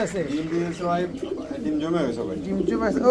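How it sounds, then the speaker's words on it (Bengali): Kaldam and green-necked pigeons coo in repeated soft throaty bursts close by, with someone talking over the calls throughout. "এক পেয়ার কালদাম আরেক পেয়ার হচ্ছে সবুজ গলা কবুতর"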